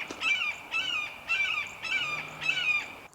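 Repeated harsh, high calls from a hawk outdoors during a camping trip, about five drawn-out screeches in steady rhythm, fairly clear against a quiet background.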